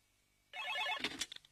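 A telephone rings once, a short bright electronic trill that starts abruptly from near silence and breaks into a few stuttering chirps.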